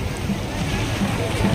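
Sea waves roll onto Shivrajpur beach near Dwarka in a steady, windy wash of surf and spray, with people talking close by.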